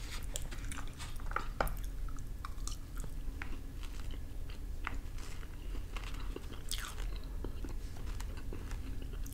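Close, crunchy chewing of Great Grains cereal with raisins, dates and pecans, steady mouth sounds with occasional sharper bites over about nine seconds and no talking.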